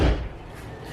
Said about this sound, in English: And if I quickly close the door,